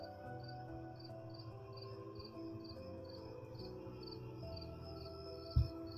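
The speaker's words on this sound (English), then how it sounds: "A lot of crickets." Crickets chirp at night in a conservation area during light drizzle. The fast, regular chirping pulses run steadily throughout, fairly faint, over a soft low background hum.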